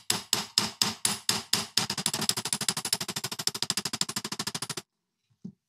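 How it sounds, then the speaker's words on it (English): Hammer peening a warped steel knife blade: a handful of spaced, ringing metallic blows, then a fast, steady run of dozens of rapid strikes that stops abruptly, followed by silence and one faint tap. "So the idea is to come in here and just start peening."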